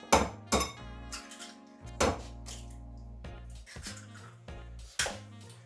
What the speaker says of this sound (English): Let's crack our eggs.